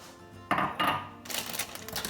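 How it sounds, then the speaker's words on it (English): Green beans dropped into a pot of keto cabbage soup with diced tomatoes and green chilies: two quick rattling thumps, then a longer rustling, splattering tumble, close and moderately loud. "I'm going to add the green beans"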